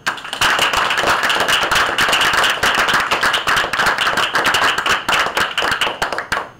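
An audience applauds to welcome a speaker at a campus Toastmasters event, dense steady clapping close by that thins out toward the end.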